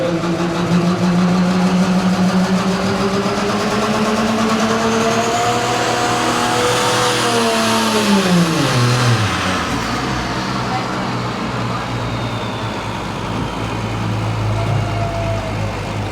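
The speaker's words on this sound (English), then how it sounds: "Good effort by the International Tractor there in this class." International super modified two-wheel-drive tractor roaring down the track at a county fair tractor pull, a loud sustained engine howl whose pitch climbs, then drops sharply as it slows, with a crowd and announcer faintly beneath.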